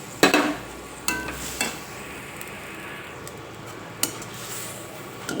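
Shrimp are tipped into a frying pan already seasoned with salt and turmeric, and a spoon clatters against the pan a few times over a faint, low sizzle.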